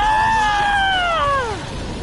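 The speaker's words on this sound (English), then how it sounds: "The alchemist let out a scream." A game's alchemist character lets out a long, high, wavering scream that glides downward in pitch and fades after about a second and a half, loud and clear with a faint noisy background.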